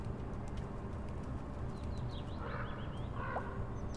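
Birds cluster and chirp around dropped bread in the video game Little Kitty, Big City, with short high chirps and calls rising midway over a steady, dense city background hum, no talking.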